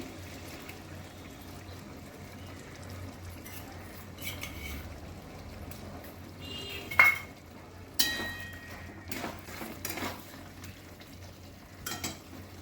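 Poppy seed and green chili paste scraped into a pan and stirred while cooking jhinge-alu-posto, soft quiet clinks and scrapes of a utensil against metal over a low background hiss, no talking.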